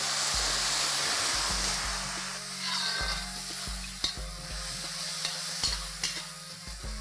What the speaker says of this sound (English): I'm going to add 1/4 cup of water to make this a little more soft.